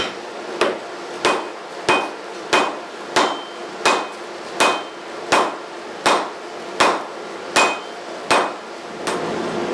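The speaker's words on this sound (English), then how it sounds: "strike from the top to upset the shoulder of the tool" Steady, evenly spaced hammer blows ring out on a tool set on a VEVOR 66-pound anvil, about fifteen sharp strikes in a row, loud and close with no talking.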